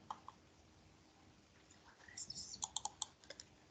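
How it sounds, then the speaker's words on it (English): Someone types on a computer keyboard during an online class, a quiet burst of quick key clicks arriving toward the end after a near-silent start. "I can't see what I'm typing"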